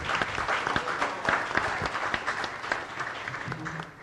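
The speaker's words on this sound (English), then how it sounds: "Wild applause for the sponsors" A luncheon audience applauds steadily for a few seconds, a dense wash of clapping with a few sharper claps standing out.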